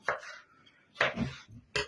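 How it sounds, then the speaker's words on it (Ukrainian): Bell peppers being chopped into thin strips with a knife on a cutting board for lecho, three distinct close chops with brief pauses between them. "Тепер оце кришить перці сюди соломкою."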